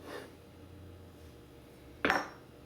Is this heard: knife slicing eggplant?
yes